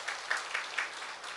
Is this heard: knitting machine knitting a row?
no